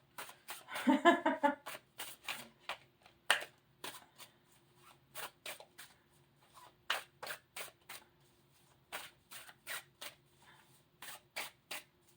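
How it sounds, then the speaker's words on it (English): Repeated riffling bursts of cards being shuffled, a dense flurry first and then short separate snaps at irregular intervals, close and fairly quiet. "Well, they're really well shuffled now."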